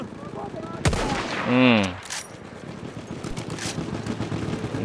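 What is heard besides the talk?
gunfire in the video game Battlefield 1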